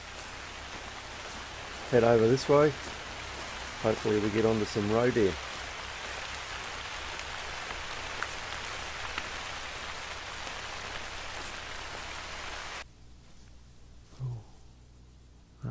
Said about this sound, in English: It's gonna start raining again.